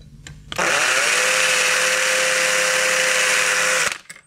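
A small power drill with a 2 mm bit whines steadily for about three seconds as it bores through a part of a model Car System charging station. The sound is close and even from start to stop, with no talking.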